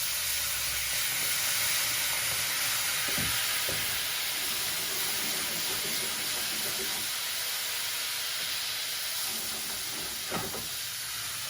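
Lime juice deglazing a hot pan of spices, giving a loud, steady sizzling hiss that fills the clip, with occasional faint stirring scrapes and no talk.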